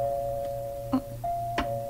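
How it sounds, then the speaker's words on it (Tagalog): A doorbell at a gate rings out as a steady electronic tone that runs through the clip, briefly broken, with a couple of short knocks or clicks over a low background hum and no talking. "Kinsa magkaroon ng doorbell sa gate."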